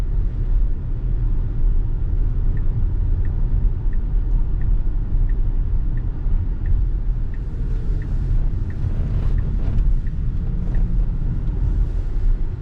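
A Tesla driving itself on FSD Beta accelerates through the narrow streets of an old town, heard from inside as a steady low road and motor rumble with faint soft ticking, no talking.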